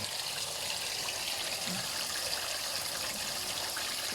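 Water runs steadily while a water tank is washed out, a continuous close splashing rush with faint trickling and no voices.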